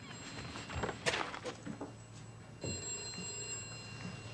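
Telephone ringing indoors in a 1980 BBC period drama scene, a single bright ring burst followed by fainter ringing with some knocks and movement, over low room background.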